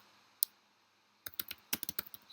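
Computer keyboard typing: one isolated key click, then a quick run of crisp, close keystrokes in an irregular rhythm, with no voices.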